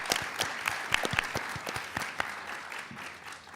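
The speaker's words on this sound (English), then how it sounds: "Round of applause." Audience applause at a middle school quiz show, a dense burst of clapping from a crowd in a hall that swells and then gradually thins out.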